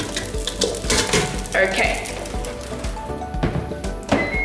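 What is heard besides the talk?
pasta frying in a pan for pasta chips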